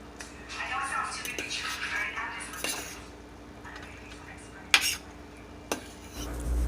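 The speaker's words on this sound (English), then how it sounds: "you're gonna want to mix this around" Utensil scraping and clinking against a pot while stirring meatballs, gravy and onions, a steady mid-level rustle with a couple of sharper knocks near the end, with speech over it.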